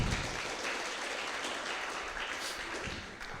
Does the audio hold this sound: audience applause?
yes